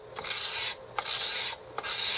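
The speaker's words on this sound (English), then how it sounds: "across the emery paper, taking material off of this surface right here" A Ruger 10/22 trigger hammer is drawn across emery paper laid on plate glass, giving three steady rasping filing strokes with brief pauses between, close and clear with no talk.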